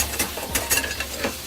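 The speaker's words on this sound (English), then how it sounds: "first thing we do is cook the fat." Pork fat sizzling in a pan as the first step of adobo, with a steady crackling fry broken by a few close scraping stirs.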